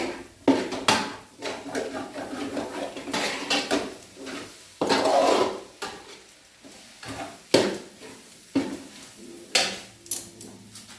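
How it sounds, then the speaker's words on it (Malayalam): Masala for chicken curry being stirred and roasted in a pan, with repeated clinks and scrapes of a spoon against the metal, irregular and close, under a soft sizzle. "ഈ മസാല ഒന്ന് ഇളകി മറിച്ച് ഒന്ന് നന്നായി വരട്ടെ"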